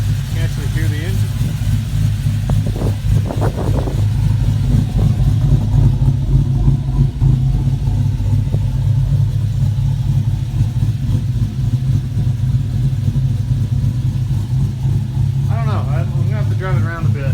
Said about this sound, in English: you can actually hear the engine